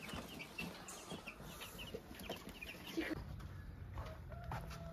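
Chickens clucking in a farmyard where hens have hatched chicks, with soft repeated clucks and bird calls at middle distance over steady outdoor background noise.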